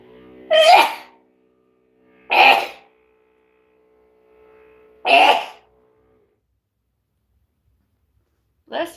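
Three sharp, fairly loud sneezes spaced a couple of seconds apart, with another starting at the end, over a quiet background with a faint steady hum.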